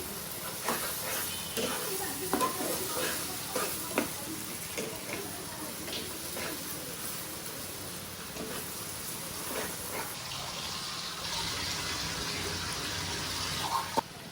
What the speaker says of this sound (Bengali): তো আমি অল্প পরিমাণে কষিয়ে নিচ্ছি